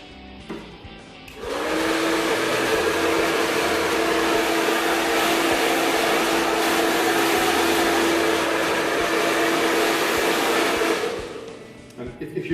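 A salon hair dryer blasts steadily on wet hair for about ten seconds, a loud continuous whooshing roar with a fixed motor hum that starts abruptly and cuts off near the end.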